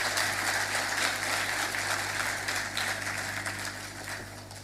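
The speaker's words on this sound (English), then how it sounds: "I think he deserves another round of applause" Applause for the Minister of Foreign Affairs at a national fisheries investment conference opened by President Boakai, a steady wash of clapping from a large audience over a low constant hum, fading slightly toward the end.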